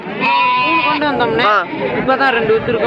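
Goats bleat loudly and repeatedly at the Friday livestock market in Ettayapuram, their wavering, quavering calls overlapping close by amid a busy crowd of people talking.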